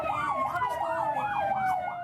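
An emergency siren wails close by in a fast, repeating up-and-down sweep, about four cycles, over steady traffic and a fixed high tone, at an earthquake rescue scene.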